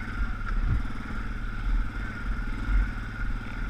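ATV engine held at steady throttle while crawling over rough rocky terrain, a continuous mid-pitched drone with light clatter and a few brief knocks, close and fairly even throughout.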